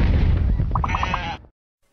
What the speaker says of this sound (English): All the space sheep have got out.